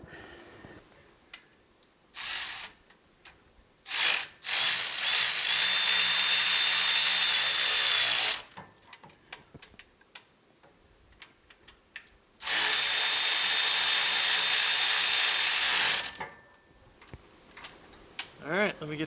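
Power tool tightening engine mount bolts on a 1965 Malibu SS during an engine and Muncie 4-speed install, two long loud whirring runs of several seconds each with shorter bursts and clicks of tool handling between them.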